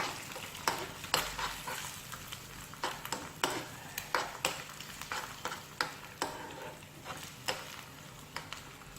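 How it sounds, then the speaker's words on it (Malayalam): Sugar being stirred into a filling in a pan for Malabar egg box: a spoon repeatedly scrapes and taps the pan in an uneven rhythm over a low, faint sizzle, moderately quiet and close. "ഇനി ഒരു 3 ടീസ്പൂൺ പഞ്ചസാര ചേർത്ത് നന്നായി ഒന്ന് ഇളക്കിയെടുക്കാം."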